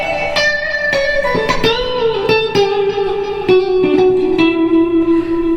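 Electric guitar through an amp on the middle fretboard pickup plays a run of picked notes that step downward, each ringing into the next with reverb and slight grit, then settles on a sustained low note.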